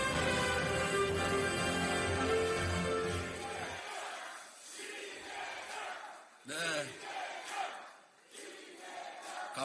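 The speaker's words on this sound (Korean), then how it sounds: "격려한 응원의 큰 박수 부탁드립니다." A crowd at a Democratic Party rally in Gyeongbuk roars and cheers, opening under a loud sustained musical tone that cuts off, then continuing as surging shouts and clapping in swells, with a voice calling out over it.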